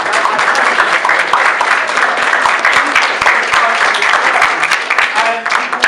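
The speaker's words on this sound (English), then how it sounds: "Let's give a round of applause." Loud, close crowd applause at a community motivation day event, sustained dense clapping with scattered sharper hand claps and some voices mixed in.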